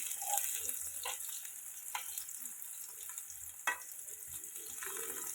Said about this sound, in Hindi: इस उलट पुलट करते हुए हम सारे को फ्राई कर लेंगे